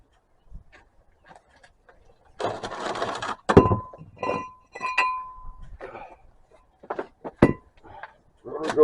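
A metal brake rotor is fitted onto the front wheel hub of a 2019 Chevy Equinox, making scattered clinks and clunks of metal on metal with pauses between, close by, with a voice briefly heard.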